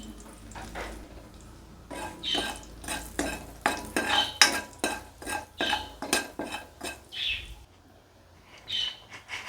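Makhana tossed with salt, coriander powder, garam masala and curry leaves is stirred in a pan, giving irregular close scraping and rattling strokes. Faint bird chirps sound in the background.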